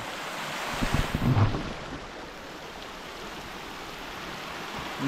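The Jharnakocha waterfall gives a steady, dense rush of falling water at mid distance, with a brief louder gust of wind on the microphone early on.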